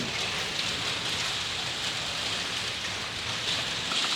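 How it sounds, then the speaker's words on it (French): Very heavy morning rain pours down in a dense, steady hiss that holds unbroken throughout, with no voices. "Ça pleut très très très fort ce matin."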